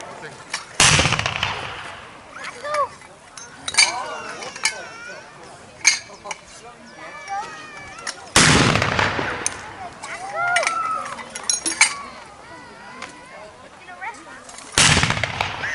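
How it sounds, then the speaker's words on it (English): A 2-inch mortar fires bombs at an outdoor firing display: three sharp, loud broadband blasts spaced several seconds apart, each leaving a ringing decay, with crowd chatter and voices murmuring in between. "the 2-inch mortar was quite popular with airborne troops because it was light, easy to carry around"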